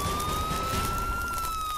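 A video game police car siren wails steadily in a single rising tone, loud and continuous over a dense rumbling background.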